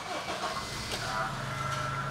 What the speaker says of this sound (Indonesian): Saya akan nyalakan mesinnya.